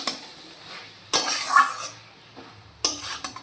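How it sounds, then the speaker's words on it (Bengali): A utensil stirs banana flower curry (mochar ghonto) in a pan, with a few scraping, clattering strokes against the metal over a faint sizzle, and no voices. "নাড়িয়ে চাড়িয়ে দেবো।"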